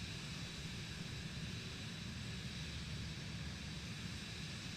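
Steady, broadband engine drone of a light airplane cruising around 150 knots in a flight simulator game over the Hockenheimring area, a constant even roar with no pauses and no talk.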